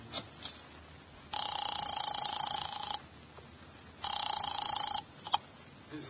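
Telephone ringing as a radio drama sound effect, two long electric bell rings separated by a pause, with faint clicks in between.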